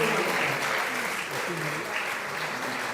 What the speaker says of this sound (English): give it a round of applause, guys.